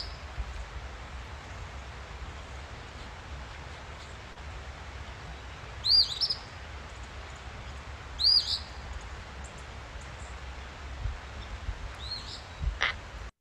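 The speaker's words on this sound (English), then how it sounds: "So here is the phoebe." An eastern phoebe calls a few times, short raspy two-part notes spaced several seconds apart over a quiet, steady outdoor background.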